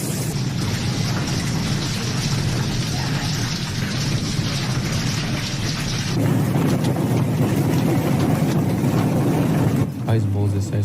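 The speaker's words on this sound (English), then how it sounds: "A storm in Istanbul." Heavy storm over Istanbul with hail, heard as a dense, steady roar of pounding precipitation and rumbling wind that stays loud throughout, shifting in texture partway through.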